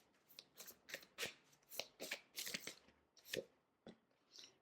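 An oracle card deck is shuffled and handled close up as a card is drawn, giving a series of crisp, papery flicks and snaps in irregular bursts separated by short quiet gaps.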